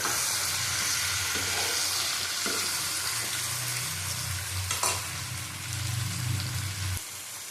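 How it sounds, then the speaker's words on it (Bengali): Potato and pointed gourd sautéing in a pan, a loud continuous sizzle with occasional clinks and scrapes of a spatula stirring, close up and with no one talking. "আলু আর পটলটার মধ্যে দিয়ে দেবো ভালো করে কষিয়ে নেবো"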